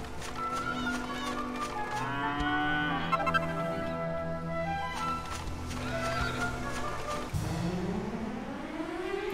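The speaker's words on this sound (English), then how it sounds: "It's a wayward cow." A cow's moo from Dragon Quest VIII, a drawn-out tonal bellow over steady game music, with a rising call near the end.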